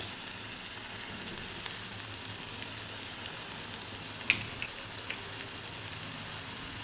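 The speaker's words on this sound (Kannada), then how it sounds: "ಚೆನ್ನಾಗಿ ಫ್ರೈ ಆಗಲಿ ಈರುಳ್ಳಿ ನೋಡಿ ಈರುಳ್ಳಿ ಇಷ್ಟು ಫ್ರೈ ಆಗಿದೆ" Chopped onion fries in hot oil for dry pepper chicken: a steady, close, crackling sizzle with a few small pops and no talking.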